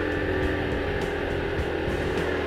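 An FKM Fyro 175 scooter engine runs loud and steady at close range, its broad continuous drone holding a strong low hum with no pauses.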